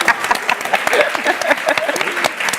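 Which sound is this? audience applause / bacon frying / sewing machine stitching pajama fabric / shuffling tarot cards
audience applause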